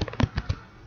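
A computer keyboard is struck in a short burst of four or five close, sharp clacking taps, closely spaced and then fading out.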